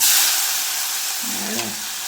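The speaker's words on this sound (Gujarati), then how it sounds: "તરત જ આ શાક એમાં વઘારી કાઢશું" A loud, steady sizzle of cabbage and potato hitting hot oil tempered with asafoetida and turmeric, hissing continuously and close by with no talking.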